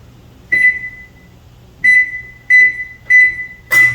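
Oven control panel being set to bake at 350, five short, loud electronic beeps at one steady pitch, the first alone and the rest in quicker succession, with no talking.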